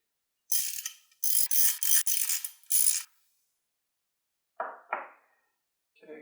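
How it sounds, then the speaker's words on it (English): Close, loud bursts of ratcheting click through a hand ratchet as the top cover bolts come out of a KTM RC390 engine, a long run of rapid strokes followed by two shorter bursts and a brief final one. "now we can take the top cover bolts out."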